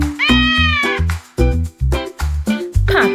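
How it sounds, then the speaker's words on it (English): A cat meows several times in a row, clear and close, each meow a drawn-out, tonal cry with short pauses between. "C for cat"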